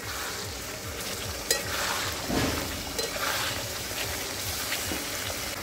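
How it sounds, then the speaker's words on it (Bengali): Potatoes sautéing with spices in a home kitchen pan, a steady close sizzle with scraping stirs and a few light clinks throughout. "আলুটা কিছুটা কষিয়ে নিই মশলার সঙ্গে"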